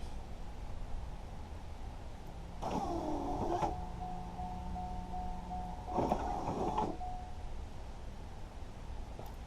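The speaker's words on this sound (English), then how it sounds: "Now we're gonna crank it up and let these headlights up one more time and see if it works." Popup headlight motor on a Corvette C5 running in two separate whirring bursts of about a second each, a steady electric hum with mechanical rattle over quiet background hiss.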